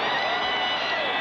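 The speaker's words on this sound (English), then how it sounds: "They are applauding" Dense stadium crowd at a 1991 NFL game in Buffalo cheering and applauding the Buffalo Bills after a win over the New York Jets, a loud, steady roar of many voices with no break.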